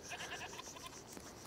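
Goats bleat in a short, faint burst of repeated cries in the medieval countryside of the video game A Plague Tale: Requiem. No one speaks.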